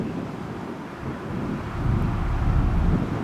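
Strong wind along Route 66 in Arizona buffets the microphone as a steady low rumbling roar that swells louder toward the end, with no voices.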